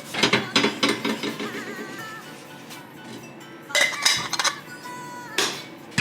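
A metal V-band clamp is fitted and tightened on a turbo downpipe of a BMW E28, giving sharp metallic clinks and ratcheting clicks in uneven bursts, close and moderately loud, with brief pauses between.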